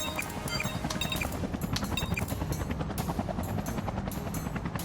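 A large helicopter carrying a container in the video game Front Mission 3 Remake gives a steady, fast chopping rotor drone that stays constant throughout, with no talking.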